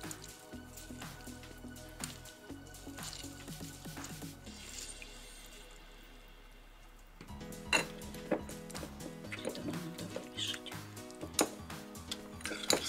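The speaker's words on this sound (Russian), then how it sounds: "Смешала горчицу с медом и лимоном." A spoon clinking against a bowl while stirring mustard, honey and lemon juice into a salad dressing, with soft close taps, a pause, then quicker rhythmic scraping and tinkling.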